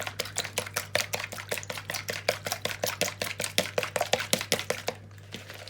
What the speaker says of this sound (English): I'm just going to beat the eggs till they're fluffy